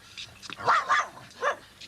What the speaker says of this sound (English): Look, it's that damn dog.